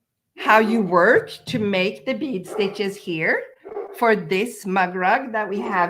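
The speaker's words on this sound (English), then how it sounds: "You may hear my dog barking in the back." A dog barks in the background of a home crochet demonstration, partly buried under a person talking steadily close by.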